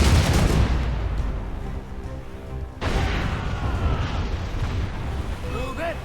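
Warship cannons boom during a naval battle in Assassin's Creed Rogue, with heavy blasts landing at the start and again partway through over a rumbling battle din, while shouting voices are heard.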